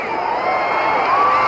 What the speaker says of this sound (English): Crowd got excited about that left thrown by Mathis